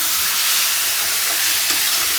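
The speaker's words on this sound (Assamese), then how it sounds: "মাংসখিনি এইদৰে এতিয়া লৰাই থাকিব লাগিব।" Chicken meat and potatoes seasoned with turmeric and salt are stirred in a hot frying pan, giving a steady, close sizzle with soft scraping throughout and no talking.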